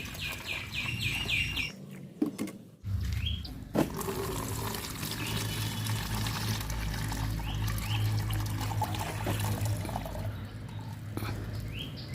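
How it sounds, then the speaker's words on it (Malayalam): Water pours steadily in a continuous rushing stream after a few brief knocks at the start, close and moderately loud, while making homemade fish amino acid fertilizer. "വെള്ളം നന്നായിട്ട് ഒഴിച്ചിട്ട്"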